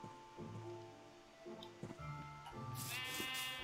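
Minecraft sheep give a few quiet, short bleats against faint background game sounds, with a bright hissing burst near the end.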